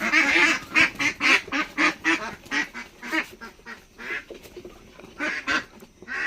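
Ducks at a duck farm quack loudly and close by in a rapid, uneven series of honking calls, one burst after another with brief gaps.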